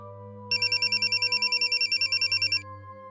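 A telephone rings in a rapid repeating electronic trill lasting about two seconds, over a low steady hum, then stops.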